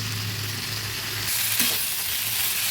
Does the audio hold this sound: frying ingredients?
yes